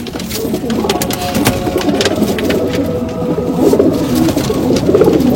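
Punjabi Malwai pigeons coo softly and repeatedly close by, low rolling calls over a busy background of fluttering and shuffling.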